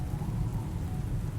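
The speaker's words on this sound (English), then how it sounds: "The rain, you see, the sound of it" Rain falls in a steady, dense patter with a deep rumbling undertone, constant and close throughout the short stretch.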